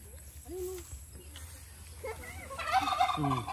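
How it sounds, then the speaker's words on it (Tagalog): A turkey gobbles in a rapid warbling burst near the end, with quieter bird calls and some murmuring voices before it. "May pabo, ayun."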